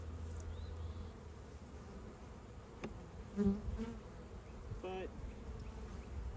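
A low, steady hum of many honeybees buzzing close by around hive frames in cold weather, with a soft knock partway through and a single short spoken word.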